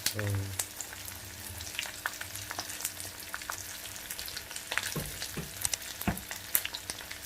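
Masala-stuffed snake gourds fry in a pan with curry leaves, giving a steady close sizzle and a few stirring scrapes, no voices.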